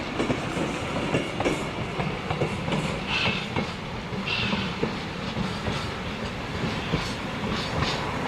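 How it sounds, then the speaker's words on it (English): A copper-mine ore train rolls along the rails near a Nevada mining town, a steady rumbling clatter with rhythmic wheel clicks and faint squeals, heard alone and continuous throughout. "As the train recedes in the distance, it will enter the ore line bypass from here, return to the yard"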